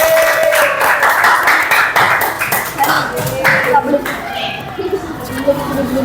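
A class of adults claps together in a training classroom, with a steady patter of applause under talk and laughter that thins out toward the end.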